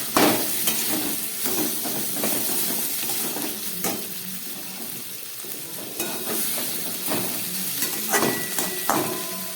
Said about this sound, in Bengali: দিয়ে এবার নেড়ে চেড়ে আমার রান্নাটা একদম রেডি